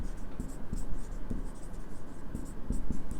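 Writing on a board, a series of quick scratchy strokes in short bursts, close and fairly clear, with background room noise.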